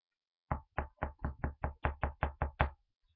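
Knuckles rap on a door in a quick, even series of eleven sharp knocks, close and fairly loud, then stop into silence.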